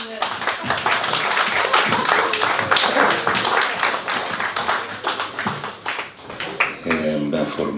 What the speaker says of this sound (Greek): μπορείτε να τη χειροκροτήσετε